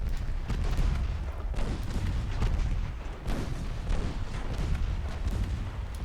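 Continuous rumbling bursts of gunfire and booming cannon shots, dense and overlapping throughout, in a heavy naval battle in a video game.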